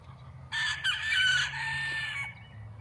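Roosters crow loudly and close by in a long, wavering call, with hens clucking alongside over a low steady hum in the background.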